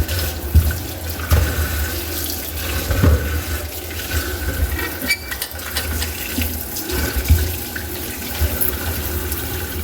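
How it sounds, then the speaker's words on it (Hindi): Tap water runs steadily into a sink while fruit is washed under it, a continuous splashing rush with small surges and knocks, close and fairly loud, with no voices over it. "पानी कम कम कम खोले, कम खोले पानी"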